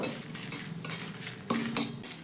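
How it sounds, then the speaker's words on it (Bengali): Spices fry in a pan over a low gas flame while a metal spoon stirs and scrapes, giving several sharp clinks and scrapes over a soft, quiet sizzle. "এবার সব মশলাগুলো হালকা গ্যাসের ফ্লেমটা লোতে রেখে নাড়াচাড়া করে সুন্দর একটা ফ্লেভার আসা পর্যন্ত, হালকা একটু কালার চেঞ্জ হওয়া পর্যন্ত ভেজে নেব।"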